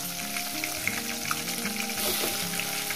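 Tengra fish hitting hot oil seasoned with black cumin, a loud, steady sizzle of frying with a brief surge of crackle partway through, no voices.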